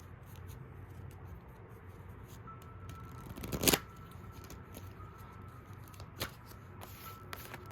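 Tarot cards being shuffled during a pick-a-card reading, a soft papery riffle that swells into one brief, louder burst midway, then a few faint flicks over a quiet room hiss.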